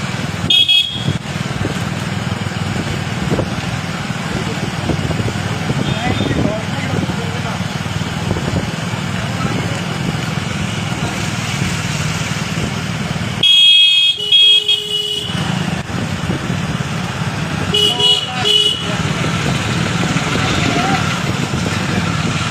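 A motorcycle on a road during a 5 km running race, its engine drone rising and fading as it passes, with traffic noise, a car horn and people talking nearby.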